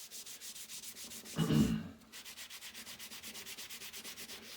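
Abrasive sponge scrubbing rust off a metal pantograph head, a steady rhythmic back-and-forth rubbing, close and fairly quiet, with one louder, harsher scrub partway through.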